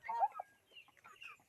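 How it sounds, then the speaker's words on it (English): Poultry birds cluck softly in a feeding area, a few faint short calls scattered over a quiet background. "So we have the chickens."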